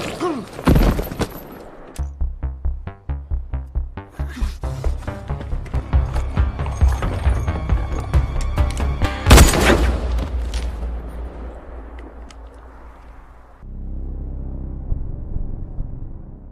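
Gunfire in a tense scene from the 2014 thriller film The Guest, where a man suddenly shoots two people; loud sharp bursts and impacts cut through a dense music score, with a big crash near the middle.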